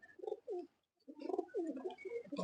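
Pigeons kept at home cooing close by in soft, throaty rolling bursts, with a brief silent gap before a longer run of overlapping coos.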